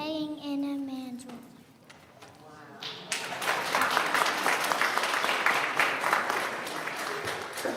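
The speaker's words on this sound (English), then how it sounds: "the people applauded for some reason" An audience at a Christmas pageant bursts into sustained applause, dense clapping that swells after a voice and continues loud to the end.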